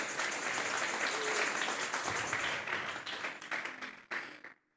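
Congregation in a church clapping together in praise, a dense sustained patter that gradually thins and fades out, ending in near silence.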